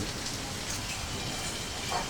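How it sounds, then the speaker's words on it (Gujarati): Steady rain pours down on a residential society in Banaskantha, Gujarat, as a continuous broadband hiss, even and fairly loud throughout, with no voices. "અમારા સોસાયટીમાં ફૂલ વરસાદ ચાલુ છે"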